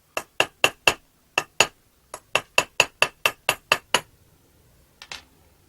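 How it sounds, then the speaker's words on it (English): A silversmith's hammer taps a steel chasing tool against silver in crisp, bright metallic strikes, about fourteen evenly spaced blows in two runs, then a pause and a final double tap, close and clear. "the chaser is tapped out by the silversmith's hammer"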